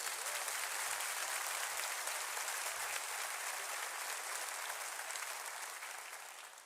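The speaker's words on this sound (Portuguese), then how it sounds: "Aplaudam ao Senhor." A church congregation applauding together during a sermon, a sustained dense wash of clapping that stays steady before slowly fading toward the end, with no voices over it.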